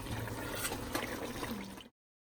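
Onion, ginger, garlic, pepper and fresh tomato mixture going into a pot for Ghanaian jollof rice, a steady close liquid sloshing and bubbling for about two seconds before cutting to silence.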